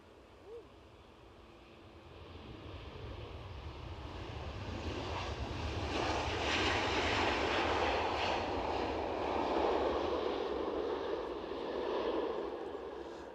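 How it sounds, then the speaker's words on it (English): A SunExpress Boeing 737 in from Antalya lands at Edinburgh Airport: a distant jet roar swells into a loud, steady rumble that holds for several seconds, with some wind noise. "Sun Express 737 in from Antalya."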